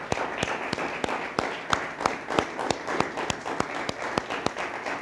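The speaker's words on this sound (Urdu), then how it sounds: "آئیے خداوند کو زوردار تالیوں سے ویلکم کریں۔" A church congregation at a Sunday service claps together in a steady rhythmic beat, sharp regularly spaced claps over a lighter bed of scattered clapping.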